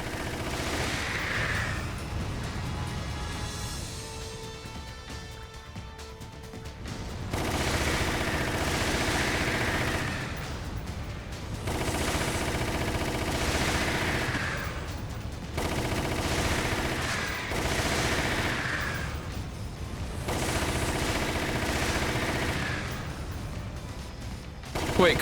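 Concentrated gunfire in Resident Evil Umbrella Chronicles, loud sustained bursts of rapid shots in several long volleys separated by short quieter gaps, with some talk mixed in.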